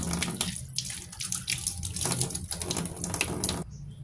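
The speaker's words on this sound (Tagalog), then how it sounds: "Hugasan natin ang ating sibuyas." Tap water runs steadily into a sink while green onions are rinsed under it, a close, continuous splashing rush that breaks off at the end, with no talk.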